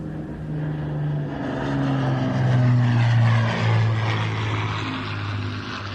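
An Avro Lancaster bomber, a four-engine propeller aircraft, passes overhead at an air show festival, its steady droning engine roar swelling as it nears and then holding loud and continuous.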